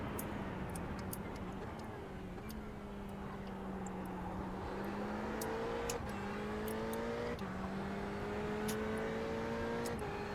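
Ferrari 488 GTE race car engine in iRacing at Hockenheim, a steady high-pitched drone climbing through the gears with sharp shift breaks every second or so, over a flat background hum.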